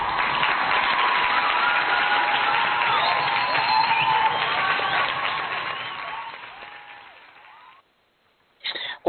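A studio audience gives dense, sustained applause that fills the room for several seconds before fading away, with a short burst of sound after a brief gap.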